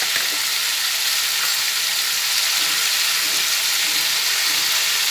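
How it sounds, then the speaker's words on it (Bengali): Pumpkin pieces with salt frying in a pan give off a loud, steady sizzle that hisses evenly the whole time. Any stirring is hard to pick out under it, and no one speaks. "নুনটা দিয়ে দিলাম আবার ভালোভাবে নাড়াচাড়া করে নিই"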